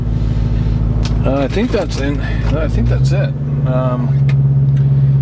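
A 2005 Ford Mustang Roush GT with only 31k miles idles with a steady low rumble, then the engine note deepens and smooths out, while someone talks over it up close.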